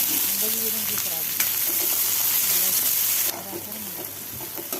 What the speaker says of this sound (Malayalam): നമുക്ക് രണ്ട് സവോള അരിഞ്ഞ് ചേർത്ത് കൊടുക്കാം